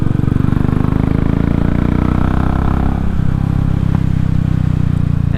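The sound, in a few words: Royal Enfield motorcycle engine idling with Powertronic map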